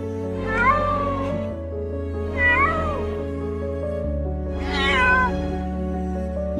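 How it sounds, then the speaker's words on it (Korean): A cat stuck in a difficult spot and in trouble meows three times in drawn-out, plaintive cries, close and clear over a steady low background hum. "정말 어려운 상황에 빠진 고양이입니다."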